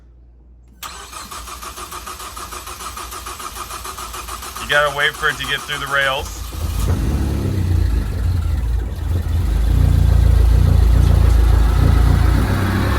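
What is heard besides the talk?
Ford Focus ST engine cranking and starting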